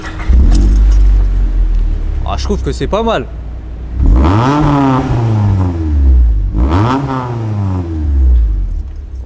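A Honda CRX del Sol with a VTEC engine cranks and starts, then revs sharply twice, each rev climbing and dropping back to idle, loud and close. People speak briefly between the revs.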